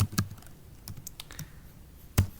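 Sparse keystrokes tap on a computer keyboard, a handful of sharp clicks spread unevenly over a couple of seconds with a louder strike near the end, no voices.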